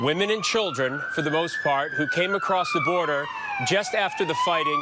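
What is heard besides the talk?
siren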